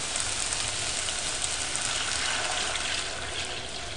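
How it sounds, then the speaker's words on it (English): Chicken broth is poured into a hot pan to deglaze it for Moroccan chicken with lentils, giving a steady close gushing, sizzling wash of liquid that continues for the whole moment. "we're going to take, in fact, our chicken broth. And I'm going to pour about 3/4 of this"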